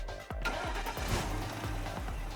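Car engine in a VR driving demo at NFT NYC, a steady mid-pitched hum with small rises and falls as if pedals are pressed, continuous and fairly close with no talk over it.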